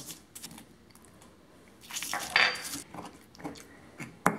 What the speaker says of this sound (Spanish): Y ahora vamos a empezar a moler también cebolla.